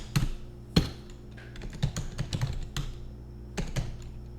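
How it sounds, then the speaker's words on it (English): Fingers type a command on a computer keyboard in quick bursts of close, crisp key clicks with brief pauses between them and no talking. "I'm going to type it in manually here"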